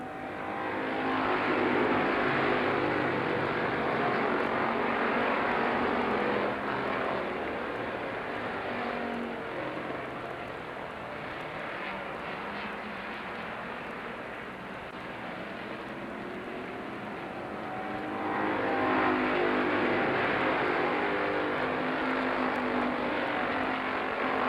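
Race cars roar around the oval at Lorain County Speedway in Ohio, a steady loud engine drone that swells as cars pass close, dips in the middle, then surges again near the end.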